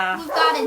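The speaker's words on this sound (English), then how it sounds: "Sorry about the dog in the background." Short, near dog bark or yelp in a home, one brief harmonic call lasting under a second.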